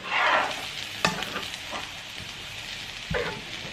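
Spoon stirring a vegan kebab mixture with onions in a hot pan, giving a steady close sizzle with a few sharp scrapes and knocks of the spoon against the pan.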